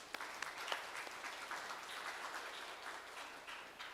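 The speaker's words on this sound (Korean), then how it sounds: "역시나 큰 박수로 환영해 주세요." Faint, continuous audience applause rises at a Korean science forum on climate and sustainable technology as a speaker is welcomed, a soft, steady patter heard from a distance.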